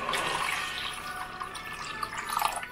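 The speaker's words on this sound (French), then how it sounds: "je vais venir complètement le recouvrir d'eau" Water is poured into a pot of red rice to cover it completely, a steady splashing and gurgling pour that runs for a few seconds with no voices.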